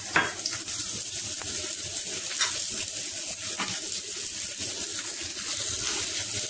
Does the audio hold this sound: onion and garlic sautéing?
yes